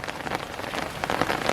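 Steady rain pours outdoors during the rainy season around chili plants growing in polybags, a dense continuous patter of drops striking surfaces with no voices.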